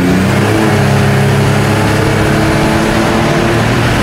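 A turbocharged 3.8 engine in a 1970 Chevrolet El Camino roars loudly and steadily under hard acceleration, a dense continuous drone with a rising mechanical whine.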